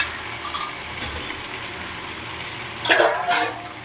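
Sizzling and scraping in a pot as chicken is stirred into gravy for biryani, a steady frying hiss with a louder burst of stirring near the end.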